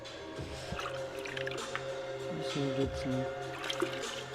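Water trickles and splashes into a container with gurgling squishy sounds, while someone speaks briefly over it.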